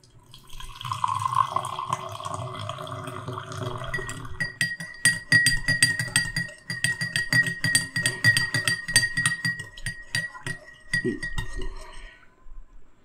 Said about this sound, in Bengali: এক স্কুপ দিয়ে দিলাম ক্রিয়েটিন, গরম জল দিচ্ছি।